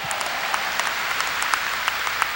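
A Korean Sunday worship congregation claps during a 1992 sermon, a continuous crowd patter with sharper individual claps popping out at irregular intervals.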